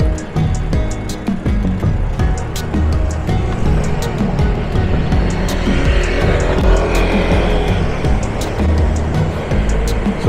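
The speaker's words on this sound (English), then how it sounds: "you've got cars going the way I'm going and cars coming the other way" Road traffic in Jomtien streams past in both directions, a continuous loud wash of car engines and tyre noise heard from a moving vehicle, without talk.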